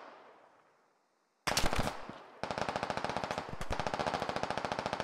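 Gunfire in the video game Squad: after a faint fading rumble and near silence, a loud close burst of shots cuts in, then sustained rapid machine-gun fire in a steady rhythm.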